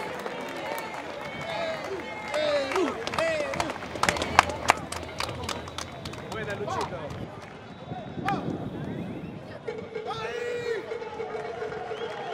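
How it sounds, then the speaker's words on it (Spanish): A crowd at an event cheering the Peruvian football team applauds the performers, a dense wash of clapping and cheering mixed with loud talk over a microphone and crowd chatter. "El aplauso para la farandola, por favor."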